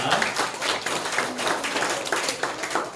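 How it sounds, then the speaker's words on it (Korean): A church congregation claps together at a Thanksgiving Sunday service, a dense, continuous wash of many hands clapping with a loosely pulsing rhythm, filling the room with no speech. "우리 박수하겠습니다"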